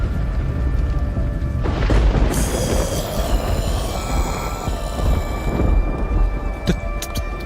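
Steady heavy rain hisses throughout, with a deep rumble of thunder swelling in the middle and fading back into the downpour. No voices.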